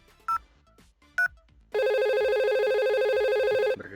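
A loud electronic phone ring sounds in a Packet Tracer VoIP simulation, one sustained two-second burst following two short dial-tone beeps, alone without talk.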